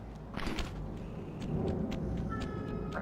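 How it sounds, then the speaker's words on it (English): An alley cat in a video game gives a brief, fairly faint yowl against low rumbling game ambience. "see, that was the alley cat that I heard"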